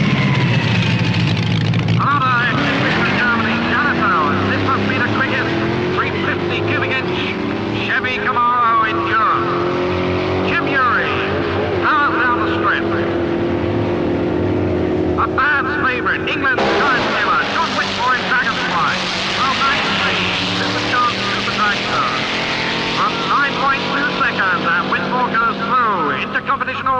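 Drag racing cars at Silverstone in 1973, engines roaring and revving loudly throughout with rising and falling tones as they launch and pass, under continuous excited race commentary.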